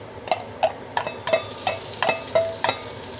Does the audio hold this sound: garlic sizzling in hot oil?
yes